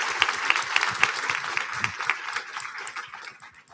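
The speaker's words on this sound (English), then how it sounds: "Can we give these ladies a round of applause for their authenticity," An audience at a founders' event applauds, a dense burst of clapping that starts strong and gradually fades over a few seconds.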